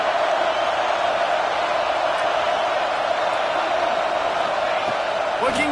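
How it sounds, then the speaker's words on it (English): A stadium crowd roaring in the American football video game Madden, a dense, steady, loud wash of cheering that stays constant throughout, with a faint whoop or two. "This crowd, full throat, splitting the eardrums"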